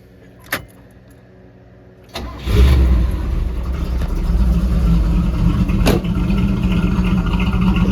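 A 1986 IROC-Z with a swapped-in 350 V8, headers and a 110 LSA cam cranks and fires in a home garage after a couple of sharp clicks, then settles into a loud, steady, lumpy idle.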